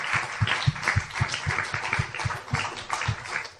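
Congregation in a church clapping in steady rhythmic unison, a regular beat of claps with a faint wash of voices underneath, moderately loud.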